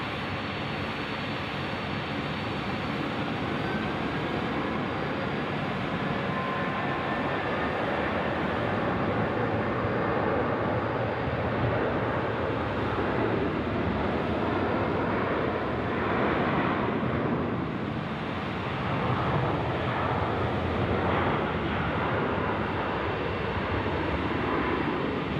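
Cathay Pacific airliner on the runway at Sydney Airport at night, a continuous broadband jet engine roar that stays loud and steady for the full length, with faint shifting whine tones drifting through it.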